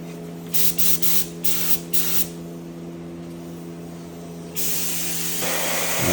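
Spray gun laying a second, heavier coat of Krylon paint on a test panel for a 1970 Roadrunner: short hissing bursts of spray in quick succession, then a long continuous hiss, close over a steady compressor hum.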